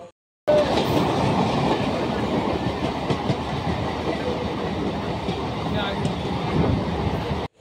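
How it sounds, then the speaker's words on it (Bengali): Continuous rumble and rhythmic clatter of a moving local train heard from inside a carriage on the Sealdah to Shantipur line, loud and steady throughout. "ভিডিওর সাথে সাথে ট্রেনের যাত্রাপথের আওয়াজটাও তোমরা একটু শোনো"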